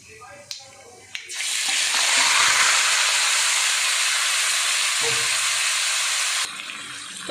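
Hilsa fish goes into hot oil with kalo jeera and bursts into a loud, sustained sizzle after a couple of soft knocks, hissing strongly for several seconds before easing slightly at the end.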